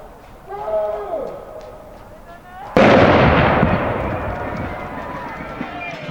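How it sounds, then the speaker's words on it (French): A traditional cannon fires a single loud boom to start a 15 km night race, the blast ringing out and decaying into a long rumbling echo, after a whistling firework-like sound and amid crowd noise. "le traditionnel coup de canon qui donne le coup de départ."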